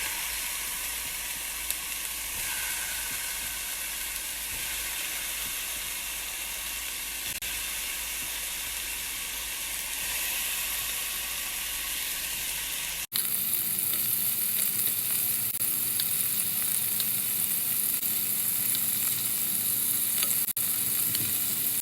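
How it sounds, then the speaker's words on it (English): Kofta meatballs sizzle and fry steadily in a hot pot with no added oil, browning in their own fat; a continuous loud hiss that shifts brighter partway through, with no talking. "Now I'm going to throw in the kofta. I'm not adding any oil."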